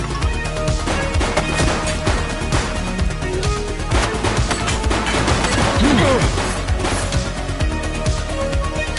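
Loud, dense gunfire in the PS5 police game The Precinct: rapid overlapping shots and impacts cracking in a continuous barrage, with crashes mixed through the action.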